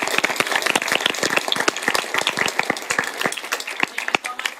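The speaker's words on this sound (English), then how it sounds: "Let's please give one more round of applause to all of our speakers." Sustained round of applause from attendees at a Women in STEM dinner, many overlapping hand claps forming a dense, lively patter that stays loud and steady throughout.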